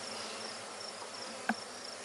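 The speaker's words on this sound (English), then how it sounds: "They do sound a little loud." Honey bees in an open hive make a soft, continuous buzzing hum, fairly faint and close, with one brief higher tone near the end and no talking.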